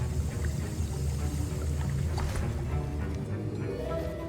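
Potion being stirred in a cauldron during potions class in the Hogwarts Legacy video game, a continuous low swirling, sloshing liquid churn with faint bubbling, steady and close throughout.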